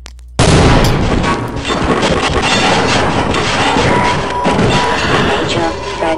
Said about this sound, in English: Danger of explosion.